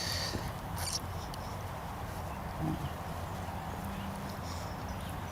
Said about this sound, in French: Là, mon cheval commence à bien marcher.